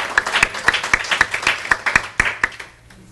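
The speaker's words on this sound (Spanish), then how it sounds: "Un aplauso al Señor por esta palabra." Church congregation claps for about three seconds of sharp, fairly close rhythmic hand claps, fading toward the end, during a women's ministry worship panel.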